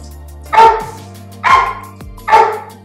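Dogs bark at a Roomba robot vacuum in a house, three loud, close, separate barks spaced about a second apart, with a low steady hum underneath.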